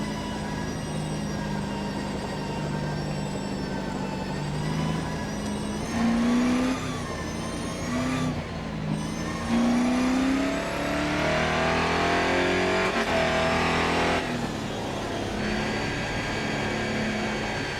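A Holden Commodore V8 in Grid Autosport revs and climbs in pitch, with a whirring gearbox and a few shift dips, loud and close from the cockpit, no voices.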